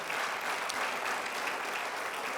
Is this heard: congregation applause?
yes